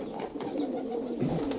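Pigeons cooing in a yard near a dovecote, a soft low burbling coo heard close and fairly quiet over faint background noise.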